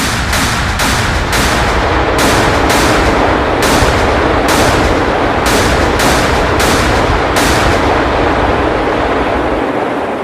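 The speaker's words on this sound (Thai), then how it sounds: "ปืนใหญ่จากเรือพิฆาต และเรือฟรีเกต ตลอดจนเรือบรรทุกเครื่องบิน ต่างก็ระดมยิง" Ships' guns from destroyers, frigates and carriers bombard the South Georgia coast in the Falklands conflict, a loud continuous roar of barrage with rapid repeated sharp blasts pounding throughout.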